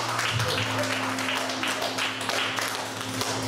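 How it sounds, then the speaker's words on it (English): An audience applauds at a pre-show event in a small shop, giving steady, continuous clapping at moderate distance over a low electrical hum. "Give yourselves a round of applause,"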